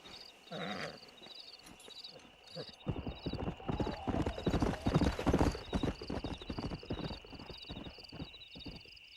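A stallion's hooves clip-clop in a steady walking rhythm in Red Dead Redemption, growing louder and busier midway, over a constant insect drone, with a brief whinny near the start and speech layered in.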